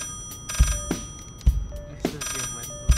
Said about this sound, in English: when a phone rings in this room, it's a big deal